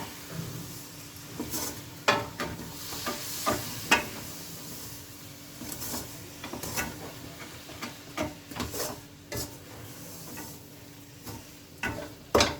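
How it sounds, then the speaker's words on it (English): A spoon stirs a ladoo mixture of semolina, wheat flour and gram flour with milk in a pan. The scraping comes as soft, irregular strokes and taps over a faint sizzle, with no one speaking. "And we'll all rest of the milk now. Let's mix it well."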